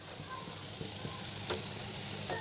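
Boiled eggs frying in a pan for bhuna, a steady loud sizzle close up with a few scrapes of stirring over it and no voices.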